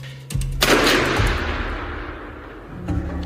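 A single loud gunshot cracks close by and rolls into a long, booming echo that slowly fades.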